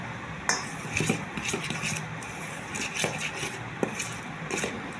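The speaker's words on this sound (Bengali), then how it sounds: "এই শুকনো উপকরণটা ভালো করে মিশিয়ে নিব" Dry dough ingredients with yeast being mixed in a bowl, close scraping and stirring with utensil clinks and taps against the bowl in an irregular rhythm, no talking.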